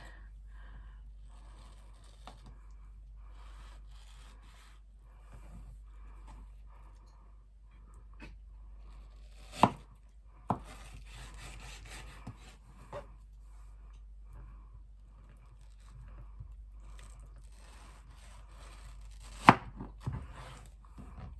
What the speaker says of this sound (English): I'm going to get some really nice little slicey bits off those, so we can have little mango strips